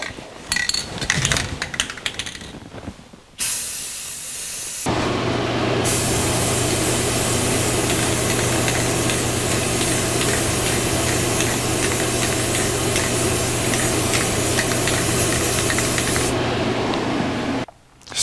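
Spray gun laying a second coat of paint on the firewall of a 1949 Chevrolet gasser, a steady, close, loud hiss running for about twelve seconds after some shorter bursts and handling noise.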